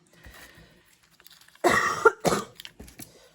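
A couple of rough, harsh coughs break through a quiet room, preceded by faint throat-clearing sounds.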